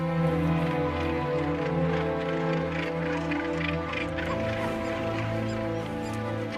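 Seabirds calling at sea, a dense chorus of harsh, honking cries layered over one another, loud and continuous throughout without any speech.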